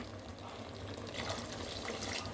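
Water splashes into a pot of bottle gourd curry, a soft continuous pouring wash mixed with faint simmering, fairly quiet and close.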